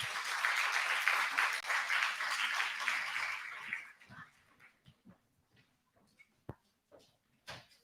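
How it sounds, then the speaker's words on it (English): An audience at an International Women's Day celebration applauds as a guest comes on stage, a burst of clapping that fades after a few seconds into scattered footsteps and small knocks. "I request a big round of applause for her and my visitors."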